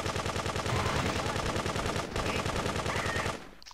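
Dual pistols fire in Grand Theft Auto 2 as a rapid, steady stream of shots, loud and continuous for over three seconds before cutting off.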